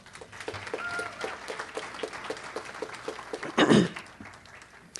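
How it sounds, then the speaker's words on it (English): An audience at a banquet claps in a scattered, moderately quiet patter that rises into a short louder burst near the end. "Please give yourselves a round of applause."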